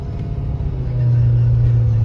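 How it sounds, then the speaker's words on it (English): A 2017 Ford F-350 one-ton pickup's engine drones low and steady from inside the cab while driving, the hum rising and firming up halfway through as the truck pulls along. "I'll turn the radio down so you can hear the motor."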